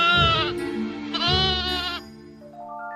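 A sea goat in a children's story gives two long, wavering bleats, loud and close, followed by a softer rising tonal flourish of sound effect as the call fades.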